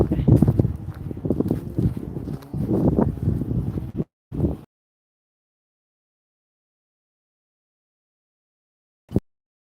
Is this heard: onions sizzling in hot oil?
no